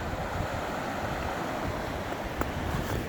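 A mountain creek in Colorado's Eagles Nest Wilderness, with snow still on the trail, rushes in a steady, close, unbroken wash of water noise that holds at the same level throughout, with no voices.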